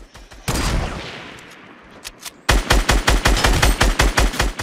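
Bursts of gunfire from a Fortnite match: a loud rapid string of shots, a pause with a fading tail, then a fast steady volley of close, punchy shots.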